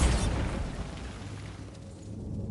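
A Bombarda spell explodes in Hogwarts Legacy, a deep booming burst at the start that rolls off into a fading rumble, loud and close with no voice over it.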